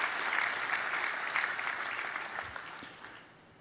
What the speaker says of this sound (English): So you could have a round of applause for these partners